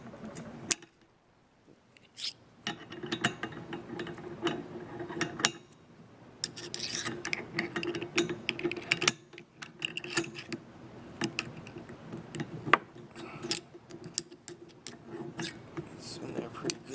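A screwdriver twists an O2 cell out of its housing, giving repeated scraping and grinding rubs with small clicks in short bursts and pauses, close and fairly quiet.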